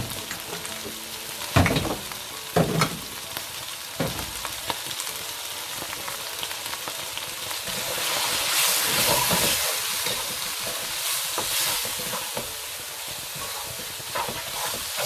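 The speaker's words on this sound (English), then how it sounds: "Then I'll give that a stir through." Chicken bhuna sizzling in a pan with spices and stock, a constant hissing fry punctuated by a few stirring knocks early on, then a louder surge of steam and sizzle midway.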